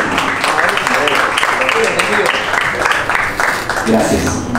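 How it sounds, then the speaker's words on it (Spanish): Crowd applause at a live show before a band comes on, dense clapping mixed with voices and cheering from the audience. "Un aplauso para estar ustedes"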